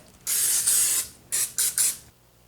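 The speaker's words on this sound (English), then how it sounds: "we want to make sure we take our pan and spray our baking dish with it so that that is already prepared" Cooking spray is sprayed onto a baking dish, first as one long hiss and then as three short bursts, close and loud.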